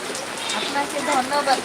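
Heavy rain pours steadily outdoors after a long morning of downpour, a dense, even hiss of drops on surfaces that stays close and loud throughout.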